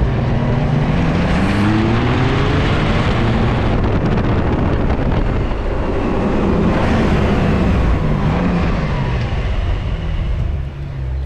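A Porsche 911 Carrera 992 engine hums loud and steady, its rising exhaust note layered with rumbling road and cabin noise as the revs build slowly and continuously.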